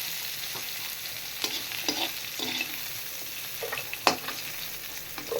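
Mutton curry, Madurai style with a little coconut, simmering and sizzling in a pan, with scattered scrapes and clinks of stirring and one sharp knock near the end, no voices.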